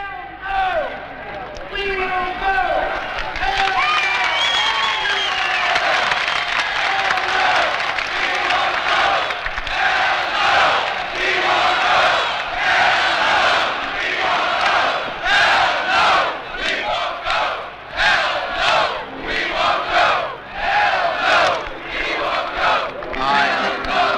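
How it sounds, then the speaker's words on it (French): A large anti-war protest crowd marching on the Pentagon chants a rhythmic slogan in unison, loud massed voices rising and falling in steady repeated phrases with shouting and cheering throughout. "Et la foule scande avec lui."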